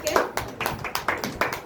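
A church congregation claps in welcome, with a handful of hands clapping in a loose, irregular rhythm of sharp, close claps over about two seconds.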